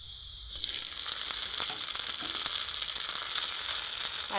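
Chopped tomato hitting a frying pan of browned fried onions, a sudden bright sizzle that rises and holds as a loud, continuous hiss close up.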